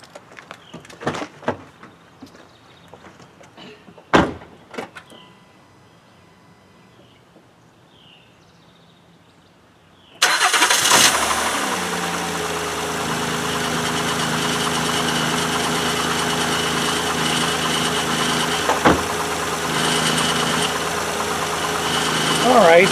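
A Honda Odyssey with a rough-idle misfire and a newly replaced oil control valve cranks and fires up abruptly after some handling noises, then settles into a steady, loud idle that runs on continuously.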